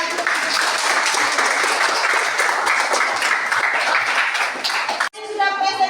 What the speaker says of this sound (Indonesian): Oke, kita beri aplaus sekali lagi.